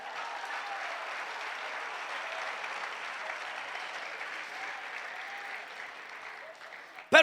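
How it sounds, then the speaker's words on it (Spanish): A church congregation claps steadily as a fairly distant, even wash of applause during a sermon, ending with a brief loud knock or sound up close. "Denle un aplauso al Señor."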